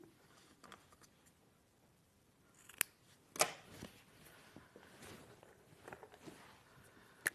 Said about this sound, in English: Oh, so blunt scissors.